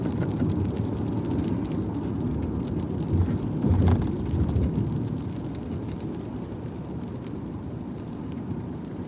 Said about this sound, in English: It wasn't raining this hard earlier.